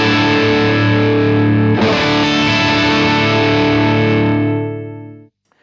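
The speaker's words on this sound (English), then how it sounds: "So on full, we have got this spiky kind of sound." A Vox AC30 guitar amp turned up to full volume gives a loud, spiky distorted electric guitar tone, with a sustained chord that shifts partway through and then cuts off abruptly; no talking.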